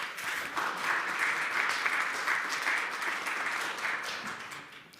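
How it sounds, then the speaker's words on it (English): Audience applause fills the room after a student waste-challenge presentation, a steady dense round of clapping that swells, holds and gradually thins toward the end, with faint voices underneath. "let's give a round of applause for them for this hard work"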